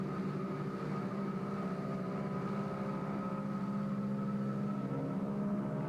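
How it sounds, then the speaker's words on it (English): Steady, droning roar of a 1928 Ford Tri-Motor's three engines at takeoff power, layered low tones, continuous and unchanging throughout. "watch the pilot push the throttles up to takeoff power and listen for the engine noise"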